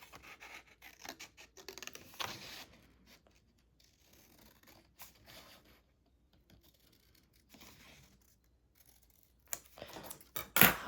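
Scissors cut a brown paper lunch bag in faint, quiet snips and rustles, irregular and close, with sparse paper handling between cuts and a louder rustle at the end.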